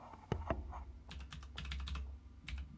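Quick bursts of typing on a computer keyboard, with a couple of sharper key strikes followed by clustered clicking in short runs, close and fairly quiet against a faint room hum.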